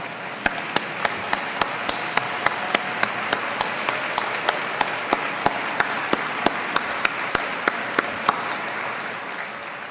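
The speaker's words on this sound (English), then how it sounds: "Let us give these guys a great round of applause." Audience applause in a hall, a steady dense wash of clapping with a few sharp individual claps standing out, sustained evenly for about ten seconds with no talking.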